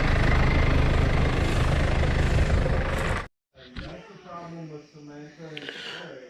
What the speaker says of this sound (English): Tractor's still sitting here.